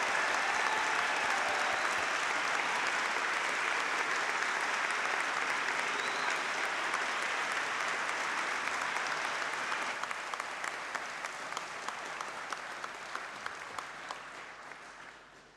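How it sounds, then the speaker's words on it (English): A large audience at a university degree ceremony in Poole applauds the graduates, a dense sustained wash of clapping lasting the whole stretch and slowly thinning toward the end, with a few sharper individual claps standing out late. "Let's give all those amazing graduates another huge round of applause."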